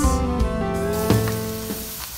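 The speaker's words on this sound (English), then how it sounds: "Drop chunks of the solidified butter on the scallops." Chunks of solidified garlic, chive and herb butter sizzling steadily on scallops in a hot pan, a loud continuous frying hiss with a few soft crackles and pops.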